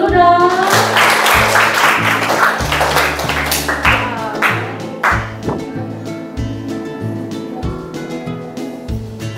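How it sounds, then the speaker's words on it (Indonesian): A classroom audience breaks into applause, with irregular claps and taps that start loud and dense and then thin out into scattered hits as the clapping fades. "Berikan aplaus dulu dong."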